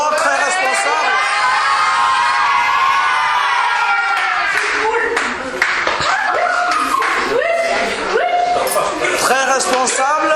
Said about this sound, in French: Là, on va applaudir très fort à Guémard Thomas